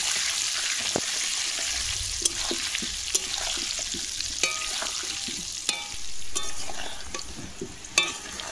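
Potatoes dusted with turmeric and salt fry in hot oil until reddish, giving a steady close sizzle broken by scattered sharp spatters and pops, with a brief swell of bubbling partway through.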